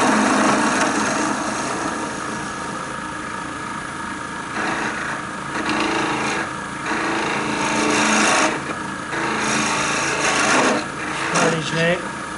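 Gouge cutting a spinning wooden duck's head on a lathe, a continuous rasping, scraping drone that swells and dips as the tool shifts along the crown, with faint talk near the end.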